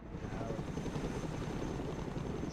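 Chinook helicopter in the video game Broken Arrow, a steady, loud, throbbing rotor and engine drone that holds even for a couple of seconds with no talk over it.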